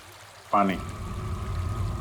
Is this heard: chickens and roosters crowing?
no